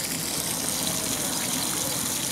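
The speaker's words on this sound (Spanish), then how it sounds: "la tan ansiada fuentecita con agua en nuestra Plaza Ramírez" Newly inaugurated small public fountain in Plaza Ramírez splashing and trickling continuously, a steady close rush of falling water with no voices.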